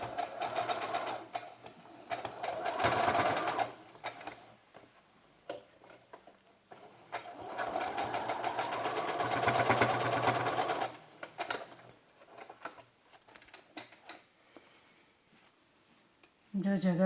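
An electric sewing machine stitches elastic onto a baby's knickers in several runs of rapid mechanical chatter, with quieter pauses between them. A person talks softly during the gaps.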